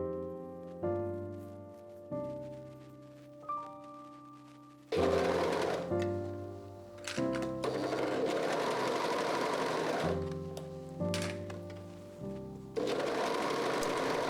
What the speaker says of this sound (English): I simply run the sides through the serger from the wrist down to the waist